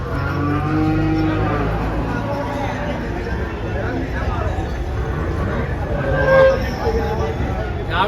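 A Holstein Friesian cow moos low and drawn out near the start at a cattle market, then fainter lowing mixes with murmuring voices and steady background noise.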